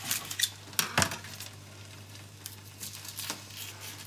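A kitchen knife slices an onion in half on a board, giving a few soft clicks and knocks of blade against wood, with clinks of dishes and a low steady hum behind.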